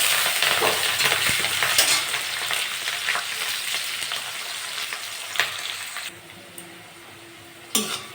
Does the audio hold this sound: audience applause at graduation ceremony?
no